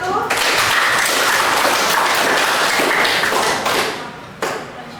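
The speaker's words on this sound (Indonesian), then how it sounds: "Tepuk tangan untuk kelompok 1." A classroom of students applauds a student group, dense continuous clapping that fades toward the end, with a few last claps trailing off.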